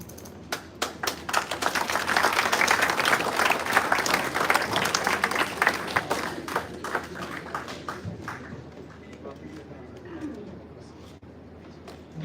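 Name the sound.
audience applause for Dr. Aprajita Prasad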